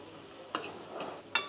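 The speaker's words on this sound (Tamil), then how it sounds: "வரமிளகா கருவேப்பில் சின்ன வெங்காயம் இதை ஸ்லோ ஃப்ளேமில் நல்லா சாட்டே பண்ணுறோம் நல்லா தேங்காய் எண்ணெயோடு சேர்ந்து நல்லா கம கமன் நல்லா ஃப்ரை ஆகிட்டுருக்கு" Dried red chillies, curry leaves and small shallots frying slowly in coconut oil over a low flame, a soft close sizzle broken by two sharp spatters or stirring clicks.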